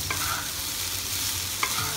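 Fried paneer cubes being gently stirred and folded into tomato rice, a close, continuous soft scraping and rustle with a faint sizzle underneath and a couple of brief louder scrapes, no talking.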